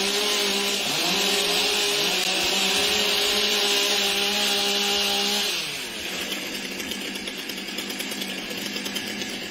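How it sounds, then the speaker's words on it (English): STIHL chainsaws warming up at a timbersports competition, several engines droning at a high steady pitch. Partway through the tone drops and turns rougher, with a crowd-like wash underneath and no clear talk. "Warm up your saws."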